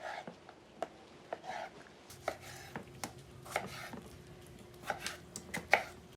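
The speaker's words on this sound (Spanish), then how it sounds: "Ahora también voy a picar el jitomate en cuadros grandes porque también lo voy a dorar." A knife chops tomato into large cubes on a cutting board, giving sharp, irregular taps close by, quiet and unhurried with light rustling between cuts.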